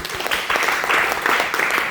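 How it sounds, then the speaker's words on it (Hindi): Crowd applause for Sarwar Khan Sir at a gathering, a moderate steady patter of many hands clapping, fairly close and sustained for the whole moment. "सरवर खान सर के लिए जोरदार ताली होनी चाहिए"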